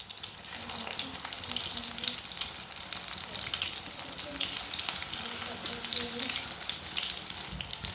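Capsicum and potato kebabs fry in a pan and are turned over, a constant close sizzle and spatter with light scraping of the flips, steady throughout the clip.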